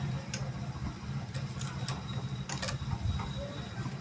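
Domestic sewing machine stitching fabric in short runs, a quiet mechanical ticking and whirring with a few sharper clicks as the needle and foot move, close by and low in level.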